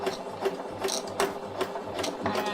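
Domestic sewing machine stitching through fabric, a steady mechanical whir with repeating clacks at a regular rhythm, moderately loud and close, with no talking.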